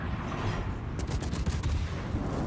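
Naval gunfire in a warship video game during a team league knockout match: a dense burst of shots with several sharp bangs clustered over about a second, set over a steady loud rumble of ambient battle noise.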